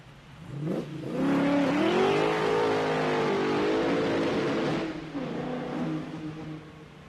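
A loud race car at a burnout event in Wairoa roars with a hard, rising engine note, revving and holding near for several seconds, then its sound eases and drops away as the car rolls off.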